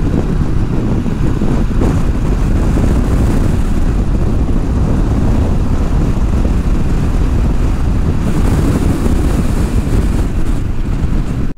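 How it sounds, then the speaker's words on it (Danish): Heavy wind buffets the microphone while riding a Kawasaki Z650 RS motorcycle, a loud, continuous roaring rumble that fills the whole stretch and masks everything else. "Hold kæft, det blæser, man."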